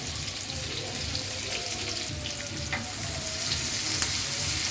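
Onions and green chillies fry in oil for fish bhuna, giving a continuous close sizzle with faint stirring and soft clinks throughout.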